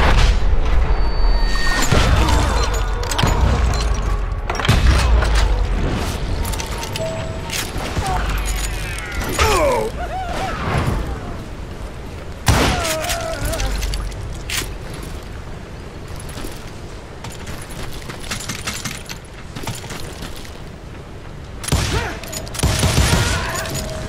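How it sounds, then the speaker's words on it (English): Gunfire and explosions in the Western game Call of Juarez Gunslinger: heavy, dense shooting and booms at first, thinning to scattered shots and thuds under a narrating voice. "now that the shooting has started, there was no backing down"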